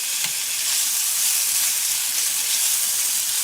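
Gardein seasoned beefless meat sizzles in an oiled pan, a loud, steady, close frying hiss with bright crackle and no talk.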